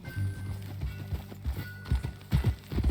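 Horse hooves clip-clop in Red Dead Redemption 2 as a horse walks along, a steady soft rhythmic clopping at close range, mixed with low game ambience.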